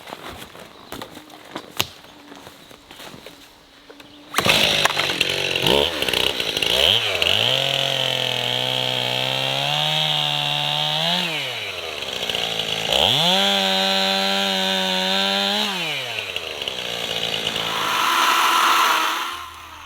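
A chainsaw bucks a lifted log while clearing downed trees on a wooded build site, starting after a quiet opening with a few knocks, then running loud and close with long cuts, revving up and dipping, and slowing near the end.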